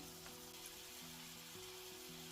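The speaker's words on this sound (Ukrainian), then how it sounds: "у гарячу олію і обсмажуємо їх із двох сторін на високому вогні" A steady, faint sizzle of cabbage cutlets frying in hot oil over high heat, crackling continuously without pause, with a low background hum.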